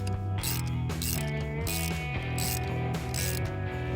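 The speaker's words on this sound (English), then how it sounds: "we're using a crimp ring system, putting everything together and torquing everything down to the right specifications" Rapid, close mechanical ratcheting, clicking in a steady rhythm throughout, as PEX crimp-ring fittings are crimped and torqued down while installing a whole home water filtration system.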